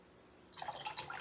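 Liquid poured from a small measuring cup, a 1/3 cup used in a classroom measuring activity, splashes and trickles after a quiet start, a close, steady pouring sound lasting under a second.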